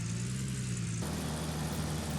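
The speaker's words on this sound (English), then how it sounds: "Probably need that engine running." An engine in Gold Rush The Game turns over at about the one-second mark and settles into a steady low idle with a strong rumbling hum that runs to the end. No one speaks.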